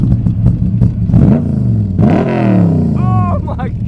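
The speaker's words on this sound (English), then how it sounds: "Can you rev that for me?" A supercar engine revs hard in a few rising bursts at an exotic car show, loud and close, with voices shouting and chattering over it.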